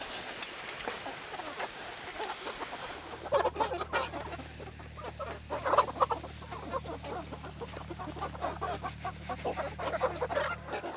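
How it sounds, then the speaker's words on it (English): Thirteen-week-old pullets on a small chicken farm cluck and chatter close by in a busy overlapping flock, soft calls rising and falling over a steady low hum. "All right, here are the pullets."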